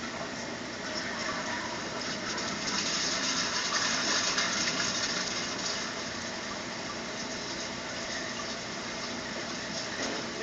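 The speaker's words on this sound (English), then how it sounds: "we're going to flush the toilet" Water from a toilet flush rushes through a root-damaged sewer pipe, a steady, fairly loud gushing that holds for the whole stretch with no voices.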